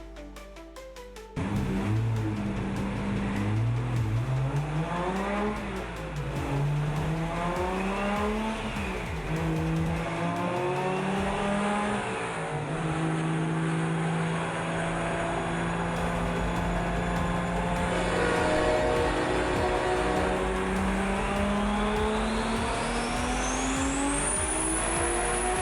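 A car roars away with rising, revving engine tones and tire squeal through a tense getaway, loud and sustained, the pitch climbing and dipping as it accelerates and skids.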